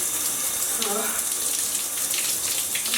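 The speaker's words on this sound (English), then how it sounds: "In the shower, the water gets in your eyes." Shower water pours steadily over hair during a wash-day routine, a dense hissing spray with faint splashes, close and continuous.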